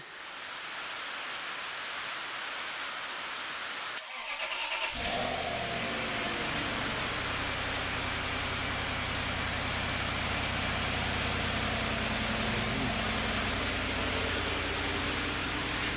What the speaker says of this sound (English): Okay, Tom, should we give it a start up and see if it...